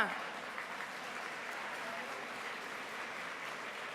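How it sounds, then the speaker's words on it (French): Audience applause at a Quebec businesswomen's awards ceremony, a steady, dense wash of clapping from a crowd that holds at an even level throughout. "Par applaudissement."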